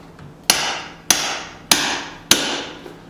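A hammer strikes metal on an anvil while forging a micro hatchet, four sharp ringing blows evenly spaced about half a second apart, close and loud, each decaying quickly.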